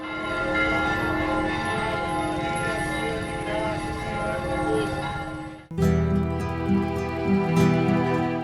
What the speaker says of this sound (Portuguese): E na festividade o sino também repica de uma forma muito bonita.